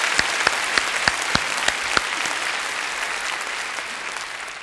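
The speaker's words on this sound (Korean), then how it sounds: "우리 하나님께 감사와 영광의 박수 올려드리길 원합니다." A church congregation at a Korean healing worship service breaks into full applause, a dense wash of clapping with a few sharp louder claps early on, sustained and steady before slowly easing.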